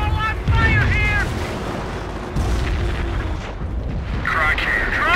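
Heavy cannon fire booms in a Company of Heroes battle, deep blasts and rumbling low-end explosions mixed with shouted soldier voices and battlefield noise.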